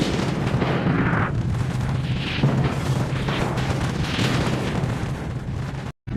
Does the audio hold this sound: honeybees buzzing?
no